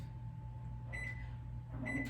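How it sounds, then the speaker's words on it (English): Microwave oven started to cook grits: a steady low hum, then a couple of short electronic beeps as the timer is set. "So now you're gonna put your grit in the microwave."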